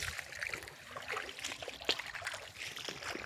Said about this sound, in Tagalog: Ito po yung sapa nilang.